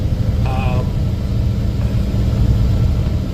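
The engine of a gravel-hauling truck in ninth gear rumbles low and steady while cruising on the highway, loud and close inside the cab, with a short tonal whine early on and no talking.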